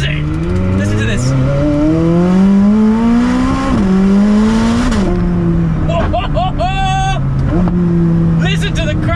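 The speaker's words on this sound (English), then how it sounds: "Listen to the cracks on the downshift." A loud McLaren 600LT Spider engine revs and shifts down, with sharp pops and crackles from the exhaust between throttle blips, close up.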